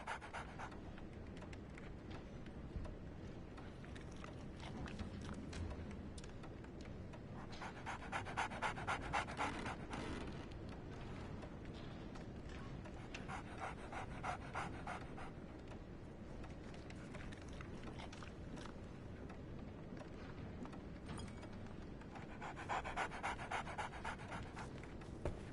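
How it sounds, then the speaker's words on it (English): A dog in the video game Sherlock Holmes The Awakened pants steadily and rhythmically close by, in soft quick breaths that grow louder in a few bursts, with no talk over it. "So, Barnes has a dog now."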